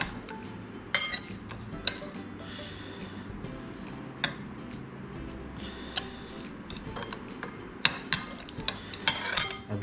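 A spoon stirs teriyaki sauce and water in a bowl, producing quiet repeated clinks and taps against the dish at an irregular rhythm.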